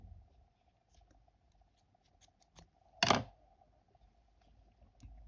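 Scissors snip yarn once during a crochet hair clip project, a single short, crisp cut near the middle against a quiet background with a faint steady hum and a few soft handling taps.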